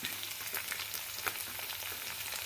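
Sliced onions frying in hot oil in a pan for a lady finger stew, a steady close sizzle with crackling pops throughout.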